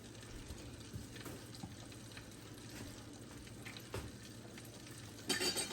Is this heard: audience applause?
no